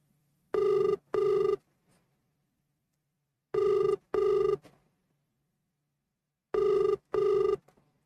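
A phone ringback tone on an outgoing call repeats three times as paired double rings, each pair about half a second per burst with long silent gaps between, loud and clear with no talking over it.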